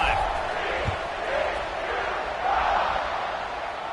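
A large football stadium crowd at a UCF game roars in a broad, steady wash of cheering that swells and eases, loud and distant-sounding, with a voice talking over it.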